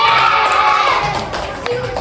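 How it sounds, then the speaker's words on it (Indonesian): Primary school classroom clapping for a group, a brief burst of mixed applause and children's voices that fades slightly over two seconds. "Kasih tepuk tangan."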